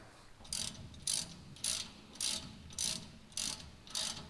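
Ratchet wrench snugging the bolts on new red brake calipers during a rear disc conversion on an OBS Chevrolet Silverado pickup, seven evenly spaced bursts of quick clicking, close and crisp, with no talk.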